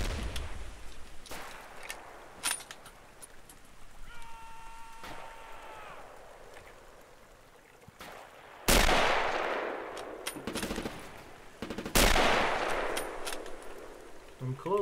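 Machine gun bursts in the Battlefield 1 mod Mare Nostrum, sharp loud broadband cracks around the ninth and twelfth seconds amid scattered distant shots, with players talking over voice chat between volleys.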